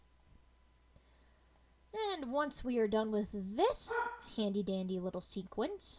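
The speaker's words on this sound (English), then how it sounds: "my dog has decided that because it's raining, he's going to bark" A pet dog, set off by rain, barks and yips repeatedly in rapid bursts somewhere nearby, clearly audible and mixed with a person talking over it.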